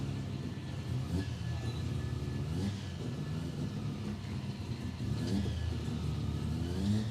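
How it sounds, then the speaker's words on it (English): At Palmyra Raceway in Australia, a turbocharged rotary-engined Toyota Corolla drag car with a manual gearbox accelerates down the strip. A steady engine roar with rising revs and gear-change surges holds at mid-distance throughout. "Scotty Clibborn, the little Corolla looks pretty stout there, little rotary turbo charge"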